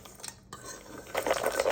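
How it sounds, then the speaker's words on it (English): Fork scraping and clinking against a bowl while stirring frozen blueberries into flour for muffin batter, brief soft taps followed by a busier burst of metallic scraping and rattling, close by, no talking. "I'm gonna kind of fork these blueberries a little bit and then get them mixed in to that flour"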